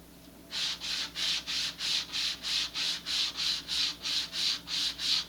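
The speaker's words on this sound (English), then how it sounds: "I'll just sand this again a little bit by hand." Hand sanding of a part for an Estes SpaceShipOne model rocket: a steady run of about fourteen even back-and-forth rasping strokes, close and distinct, with no talk.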